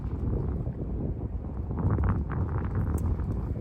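Outdoor wind buffets a microphone with a steady, heavy low rumble that swells slightly partway through, and no voices are heard.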